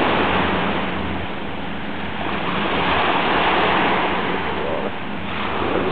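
Ocean waves rolling onto the sand at Love Beach in Freeport, Bahamas, a loud continuous wash of surf with some wind noise, steady throughout with no distinct voices.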